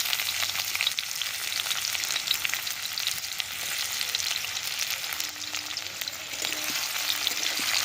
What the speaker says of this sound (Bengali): পেঁয়াজটাকে এবার আমরা লাল লাল করে খুব ভালোভাবে ভাজা করে নিচ্ছি।